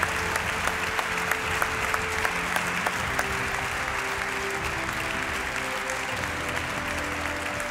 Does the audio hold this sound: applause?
yes